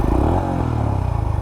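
A Royal Enfield Scram 411 with a Hayball Motorcycles end can exhaust idles close by, its small single-cylinder engine giving a deep, steady thrumming beat with a brief dip in pulse partway through.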